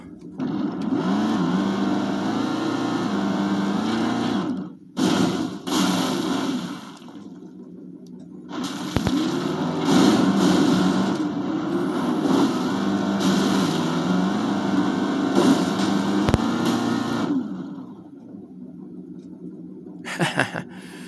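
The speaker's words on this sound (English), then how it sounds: "I will be playing the Monster Jam 2007 PC game by driving the Scarlet Bandit monster truck" Monster truck engine in the Monster Jam 2007 PC racing game, driving the Scarlet Bandit truck on the Southeast cross country course: a steady droning roar that dips briefly in places, runs loud for most of the stretch, then fades near the end.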